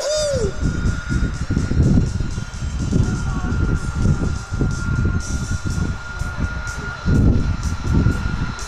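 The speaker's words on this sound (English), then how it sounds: "as Loco bringing the F-22 back" F-22 Raptor jet taxiing back to the ramp at an air show, a loud steady engine roar with a constant high whine, over crowd noise and voices talking nearby.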